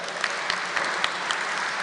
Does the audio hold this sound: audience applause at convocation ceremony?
yes